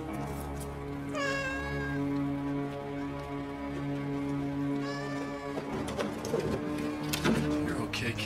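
A cat meows twice, rising and falling calls at about one and five seconds, close by over a steady low hum, with people speaking softly nearby.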